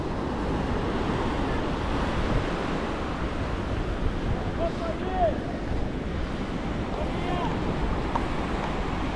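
Steady, close ocean surf at Praia do Leme beach in Rio de Janeiro, near Forte do Leme, washing continuously with wind buffeting the microphone throughout.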